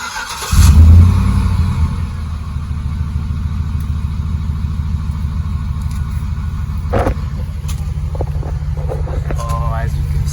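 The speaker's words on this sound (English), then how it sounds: "I'll start up and let you hear what it sounds like." A car engine with a third catalytic converter delete exhaust fires up with a loud burst, then settles into a steady, throaty idle rumble, with a few faint background noises.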